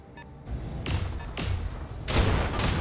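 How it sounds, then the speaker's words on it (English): Particle cannon shots slam into a mech in a modded BattleTech battle, landing as several heavy booming impacts in quick succession, loud and close, with no talk over them. "Ooh, Timber getting hit there. Particle cannon crit, structure exposed in the back."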